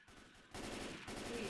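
Sustained gunfire against a zombie horde in Left 4 Dead 2 on the Swamp Fever campaign, a dense continuous barrage that jumps louder halfway through and keeps going.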